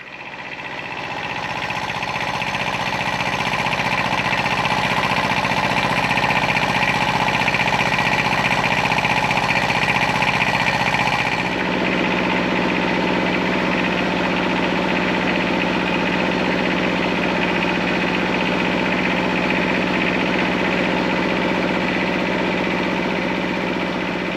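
Kubota BX1500 compact tractor engine idling steadily and close, a continuous mechanical hum with a slight shift in tone midway, no talking.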